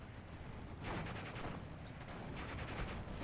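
20mm half-track guns fire in the Steel Division 44 battle game, a dense, fast-cycling rattle of automatic cannon shots mixed with battlefield rumble, continuous and fairly distant-sounding, with no speech.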